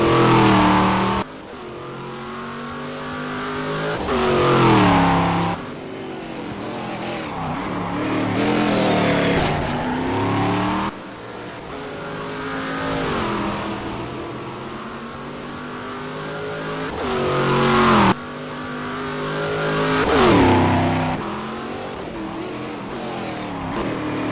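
A stock car engine in the racing game Game Stock Car 2012 revs hard on practice laps, climbing through the gears with repeated upshifts and lifts, loud and close, drawing in and fading as the car passes.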